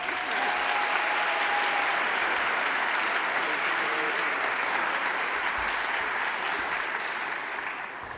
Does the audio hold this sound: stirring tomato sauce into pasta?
no